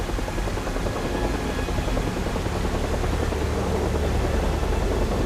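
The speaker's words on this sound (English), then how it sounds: "Helicopters try to rescue those who've been stranded." A helicopter's steady rotor drone with broadband mechanical rumble, continuous and fairly loud throughout, with no voices.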